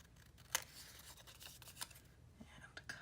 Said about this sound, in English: Okay, I'm gonna cut it